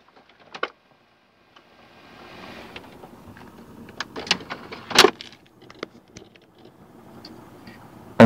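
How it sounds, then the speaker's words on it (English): PC optical drive trays slide open one after another, top drive then bottom, with a motorized whir and sharp mechanical clicks over a quiet fan hum, ending in a loud clack. "Top drive opens, bottom drive opens superbly."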